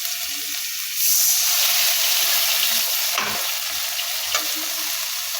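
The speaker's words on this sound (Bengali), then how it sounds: "হালকা একটু পানি দিব।" Water is poured into fig curry frying in a pan. A loud hiss swells over the steady sizzle of the oil, and a couple of brief stirring scrapes and clinks follow.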